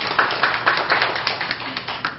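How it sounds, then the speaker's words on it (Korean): Audience at a youth media forum applauding, steady many-handed clapping with distinct sharp claps rising out of the patter, moderately loud and fairly close, sustained for a couple of seconds with no talking. "박수 부탁드리겠습니다"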